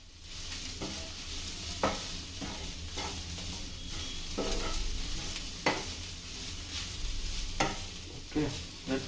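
Whole spices for a mutton curry fry in hot oil with steady crackling sizzle, punctuated by sharp clacks of a spoon stirring against the pan, with no voices.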